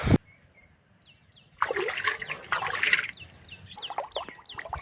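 Water splashes and gurgles steadily as a container is filled, close by, after a quiet opening with a few faint chirps.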